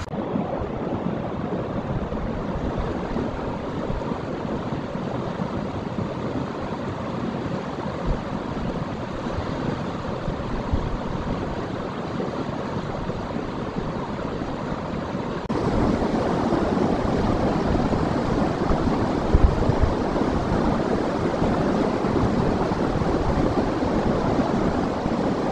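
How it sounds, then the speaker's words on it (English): Meadow Creek, a mountain tributary of the Selway River in Idaho, rushes as a continuous broadband roar, close and steady, growing slightly louder partway through, with no voices. "So we're up at Meadow Creek today, which is a tributary of the Selway."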